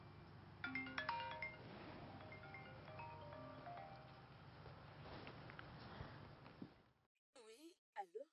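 A telephone gives two short warbling electronic rings near the end, clear and alone, after a stretch of background music and voices fades to silence.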